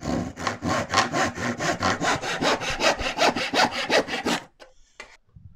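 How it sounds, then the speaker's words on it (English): A tenon saw cuts a pallet offcut held on a bench hook, with about twenty quick, even back-and-forth strokes rasping close up before the cut stops and the sound drops away. "Just use a tenon saw and a bench hook."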